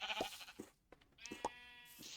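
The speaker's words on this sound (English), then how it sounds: "So we've got plenty of sheep around." Sheep in the video game Minecraft bleat in several short, nasal calls, one after another, fairly close and clear over a quiet background.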